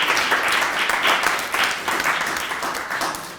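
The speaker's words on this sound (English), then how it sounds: "Another round of applause." Sustained applause from a panel-discussion audience, a steady wash of many hands clapping with swelling and fading intensity, fairly loud and close.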